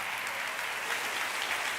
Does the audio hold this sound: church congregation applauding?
yes